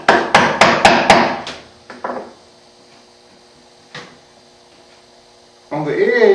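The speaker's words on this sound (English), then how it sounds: "Tilt the chisel forward a little bit. And just give it a tap or two." Hand-cut dovetails in wood as a chisel is struck: four or five quick, close, sharp taps in a row, then near silence over a low hum with one lighter knock, before a voice speaks at the end.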